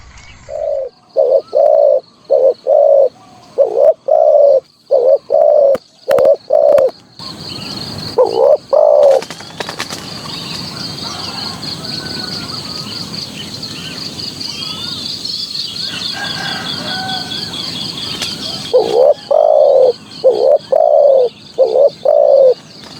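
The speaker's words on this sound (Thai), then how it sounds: "ผมได้ยินหลิวตันนะ" Close, loud dove coos in rhythmic bursts, pausing for a stretch of softer chirping and background noise before the cooing resumes.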